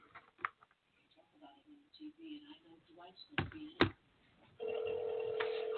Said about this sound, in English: Let's get John May on the phone